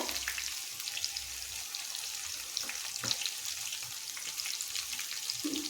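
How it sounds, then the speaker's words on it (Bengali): Mixed vegetable pakora frying in hot oil, a steady close crackling sizzle with dense bubbling that continues throughout, no talk. "এবার এটা ভাজা হোক তারপর হচ্ছে আমি এটাকে উল্টে দেব"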